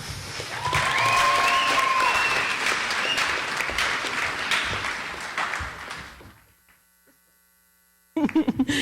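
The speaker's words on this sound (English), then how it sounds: "don't hold your applause" Audience applause greets chorus members being called forward at a 2013 Lin-Wood school continuation ceremony, loud and steady for about six seconds, then fading into near silence with a steady mains hum before a burst of noise returns.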